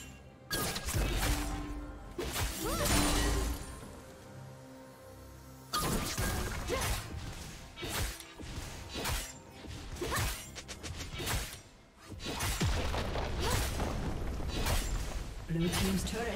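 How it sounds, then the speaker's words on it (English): Turret destroyed in League of Legends during a Qiyana versus Malphite top-lane match, crashing, whooshing impacts and shattering hits amid busy game effects, with an announcer voice speaking over the action. "Blue team's turret has been destroyed."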